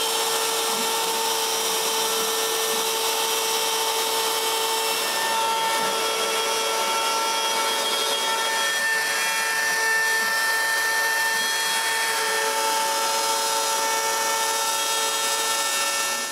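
An X-carve CNC router cuts a plywood jig, a loud continuous high-pitched whine with layered tonal harmonics that shift slightly as the bit moves through the wood, steady with no pauses.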